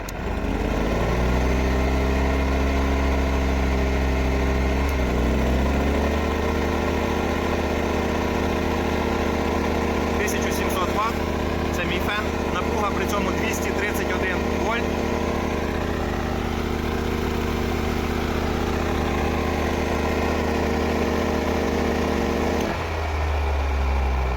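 Champion Dual Fuel The Mighty Atom 2200 W gas and petrol inverter generator running steadily, a loud close engine drone whose pitch shifts as load changes, with a person talking over it.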